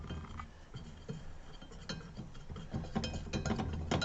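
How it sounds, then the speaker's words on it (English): A whisk scrapes and clinks steadily around a bowl as a dry powder mixture for no-bake chocolate peanut butter cookies is mixed, a quick repetitive rattling that stays close and moderately quiet, with no talk. "Now you're going to whisk that around carefully so the powder doesn't go flying everywhere."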